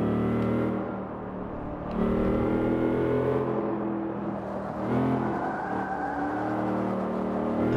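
Camaro ZL1 with 6.2 engine in the racing game Forza Motorsport 5, accelerating through a corner: a loud, steady engine drone with shifting revs and tire noise, continuous throughout with no talk.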